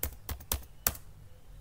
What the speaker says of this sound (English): Just type here your password.